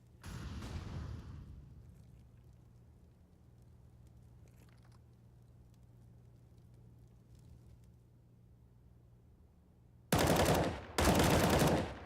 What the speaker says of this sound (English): T-Sack gets a quick headshot back, surviving on 1 HP